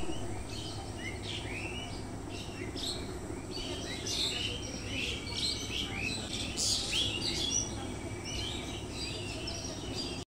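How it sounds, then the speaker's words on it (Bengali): Many birds chirp and call outside at dawn on a calm morning, a steady overlapping chorus of short bright tweets at moderate distance over faint low background hum. "পাখি ডাকতেছে"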